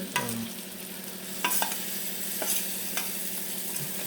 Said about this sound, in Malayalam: അപ്പോൾ ഞാൻ അരപ്പ് ഇതിലോട്ട് ഇടുന്നുണ്ട്